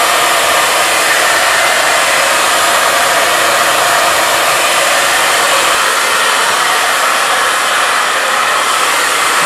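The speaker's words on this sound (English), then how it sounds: "gonna kind of back over with our blow dryer real quick" A blow dryer roars steadily and loudly at close range, constant airflow with no pauses.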